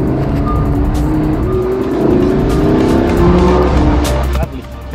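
A Lamborghini accelerating on a private road, loud close engine note climbing in pitch with tire noise, people talking over it, and a sudden drop as the throttle lifts near the end.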